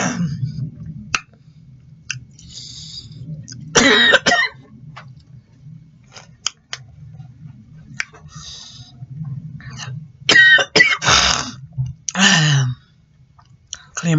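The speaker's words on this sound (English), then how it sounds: "Clear my throat." Someone clears their throat at close range in two or three harsh bursts, with quiet gaps and small mouth sounds between them.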